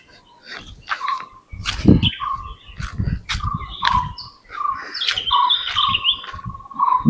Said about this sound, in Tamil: பறவைகள் சவுண்டு ரொம்ப கொஞ்சம் அதிகமாக இருக்குது.